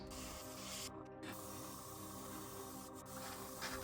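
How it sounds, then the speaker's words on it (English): An airbrush sprays paint onto a 3D printed crankbait fishing lure, giving a steady, faint hiss with no talk and two very short breaks in the spray. "Okay, it's time to airbrush."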